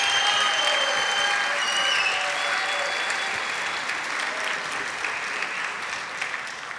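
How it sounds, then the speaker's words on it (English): Sustained applause from a concert audience for the Springdale High School band at a Christmas concert, dense and loud at first, then gradually thinning and fading, with a few whistles early on. "let's give the whole Springdale band another round of applause for straight ones"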